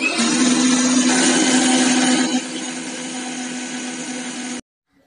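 Kitchen blender whirring loudly as it blends a jackfruit seed shake with Boost malt drink, a steady high motor whine that eases slightly midway and then cuts off abruptly.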